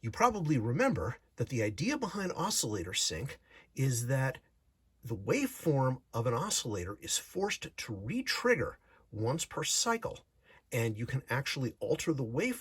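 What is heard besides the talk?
No distinct noise like a dog, phone or traffic.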